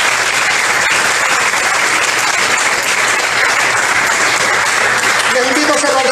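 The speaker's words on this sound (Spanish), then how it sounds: "¿Cuánto le damos un aplauso al Rey de Reyes?" A church congregation breaks into loud, sustained applause during a Christian sermon, a thick wash of clapping from many hands with a voice rising faintly near the end.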